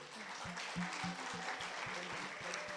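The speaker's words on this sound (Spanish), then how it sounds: "Un fuerte aplauso a Dios por eso." A crowd claps steadily at a moderate distance, a sustained patter of applause with no talking over it.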